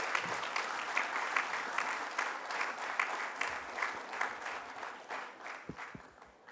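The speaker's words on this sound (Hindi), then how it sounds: "मुझे लगता है कि तालियां थोड़ी सी और जोरदार होनी चाहिए" Listeners at a talk on Swami Vivekananda give sustained applause, a soft, even round of clapping from a crowd that carries on without speech.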